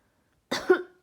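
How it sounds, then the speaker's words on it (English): A single close cough from a person reading a children's picture book aloud, a sharp burst followed by a rougher tail, then silence. "He coughed and he whiffed."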